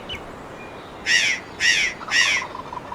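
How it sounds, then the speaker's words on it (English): Wild turkey gobbling in a turkey hunting video game: three short, bright gobble bursts in quick succession at moderate distance, over quiet outdoor background with no talk. "I finally heard a gobble"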